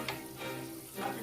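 Brussels sprouts sautéing in garlic butter until crispy, a soft steady sizzle close by with faint crackles and stirring, no voices.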